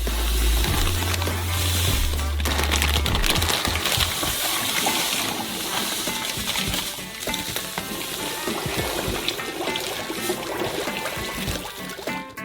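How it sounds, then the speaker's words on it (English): Sugar is poured into melted butter in a stovetop pan for a giant homemade Twix, giving a loud gushing rush that settles into a continuous sizzling, stirring hiss with no voices. "pour it into the melted butter"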